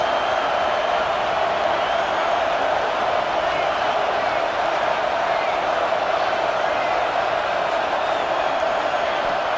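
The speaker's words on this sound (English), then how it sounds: "This crowd going to try to make life miserable for these guys." A football video game's stadium crowd roars as a dense, steady wall of noise throughout, loud and unbroken, with a commentator talking over it.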